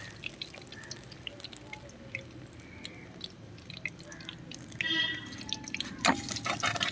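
Hot oil drips and crackles from boneless chicken leg pieces as they are scooped out of the frying pan, with scattered close drips over a steady sizzle that briefly grows louder.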